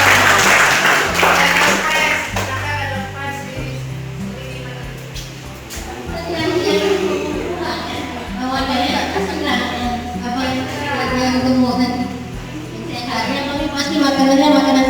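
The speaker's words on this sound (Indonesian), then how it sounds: "tepuk tangan." Applause from students in a school hall during a food safety outreach session, a brief burst of clapping near the start, mostly buried under loud amplified speech and background music that continue throughout.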